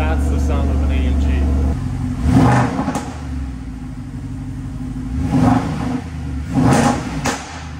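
Mercedes-AMG SLS V8 at a Japanese car dealership, a steady engine note broken by three sharp bursts of revving with crackling exhaust pops, close and loud, with a person talking in between.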